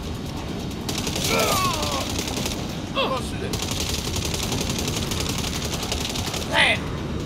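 Rapid bursts of gunfire in the Saints Row video game, dense crackling shots running continuously under game sound, with brief sharper tones and voices talking intermittently.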